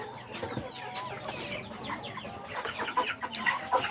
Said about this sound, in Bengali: মুরগিগুলোকে আমি দেশি পেঁয়াজটা খাওয়াইতেছি